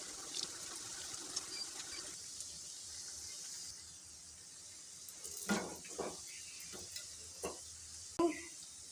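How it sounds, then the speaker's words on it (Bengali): Khasta goja sweet pastries frying slowly in oil over low heat, a faint, soft sizzle throughout, broken by a few gentle stirring and turning knocks in the pan. "দশ মিনিট ধরে এগুলো উল্টে পাল্টে ভেজে নেব"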